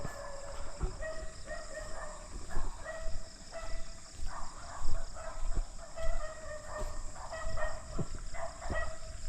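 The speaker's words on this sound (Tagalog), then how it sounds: "Dami pong aso dyan." Several dogs barking in the distance, repeated irregular yaps and bow-wows scattered throughout over faint outdoor background.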